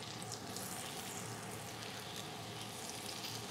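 Butter sizzling in a hot pan with bison steak, a steady, dense crackling hiss throughout, close and even.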